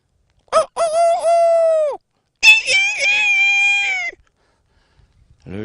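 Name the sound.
person imitating a rooster crowing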